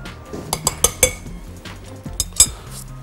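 Potato and flour being stirred together in a bowl for cheese potato patties, with a run of sharp clinks and scrapes of a utensil against the bowl, close and fairly loud, in irregular bursts.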